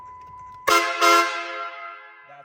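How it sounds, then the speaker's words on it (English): Train horns fitted to a modified Jeep blare in one loud, close blast with a second surge right after, then ring out and slowly fade. "did put train horns on"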